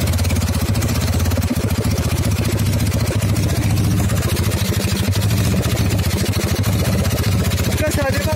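An old motorcycle, restarted after ten years stored in a garage, idles loudly and close by with an uneven, rapid chugging rhythm.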